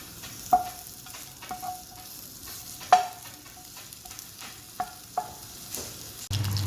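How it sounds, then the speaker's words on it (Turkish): Meat browning in a home kitchen pan, a soft steady sizzle broken by scattered clinks and scrapes of a utensil stirring against the pan, fairly quiet and close, with no talking. "Et kavuracağım."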